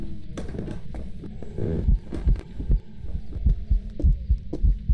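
A heavy, thumping heartbeat pounds in the horror game Phasmophobia, with low throbbing beats arriving in uneven doubled pairs. The thuds are close and loud, and clicks and brief noises sit over them.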